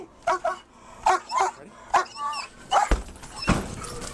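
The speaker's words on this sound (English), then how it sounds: "Try police dog!" A police dog barks repeatedly during an arrest, a series of loud, close, sharp barks spaced about a second apart, followed by thumps and noisy scuffling.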